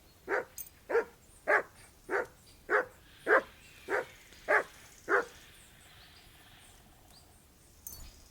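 The dog Mutt in Kingdom Come: Deliverance 2 barks about nine times in an even, steady rhythm, each bark clear and fairly close, before the barking stops and a quiet stretch follows.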